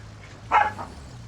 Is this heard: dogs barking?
yes